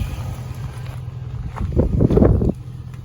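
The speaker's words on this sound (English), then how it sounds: "You can hear the compressor. It just kicked on." The AC compressor of a 2003 Chevy car runs after a clutch replacement, giving a steady low hum throughout, briefly overlaid by soft rustling bursts.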